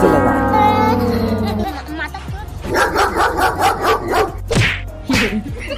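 A cartoon dog yelps and whimpers in rapid repeated cries while dragged by its tail, heard under loud narration and cartoon effects.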